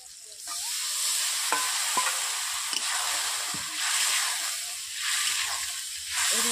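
Spices, including chilli and turmeric powder, sizzle loudly in a wok as a little water is added, a steady hissing fry broken by a few sharp spatula scrapes, close and with no speech.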